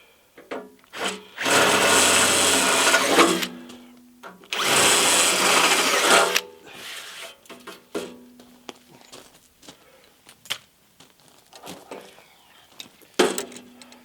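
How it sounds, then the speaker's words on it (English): A power drill whines through wood in two sustained bursts, drilling a 3/8-inch hole during a home backup generator installation, followed by scattered knocks, scrapes and handling clatter. "now we're going to drill a 3/8 hole"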